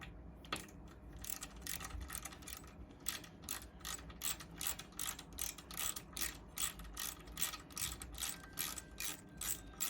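A ratchet clicks in regular rapid bursts, close and clear, as a bolt holding a P-clip is undone on an electric NSU Quickly moped.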